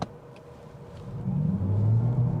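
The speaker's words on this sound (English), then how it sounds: "I hear a sound like an engine revving, but it's not an engine, it's just the electric motor" The electric motor of a 2024 BMW X5 xDrive50e plug-in hybrid SUV accelerates, a low rumbling hum swelling and rising in pitch, steady and fairly close with no talking.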